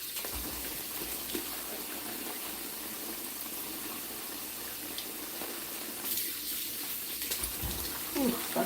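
Cold water runs steadily from a kitchen tap while juice is being made, a continuous splashing gush that swells slightly near the end.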